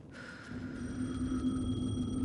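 Telephone ringing inside the video game Alan Wake II, a steady electronic ring that starts almost at once and holds at a fairly constant level over a low background hum, with no voices.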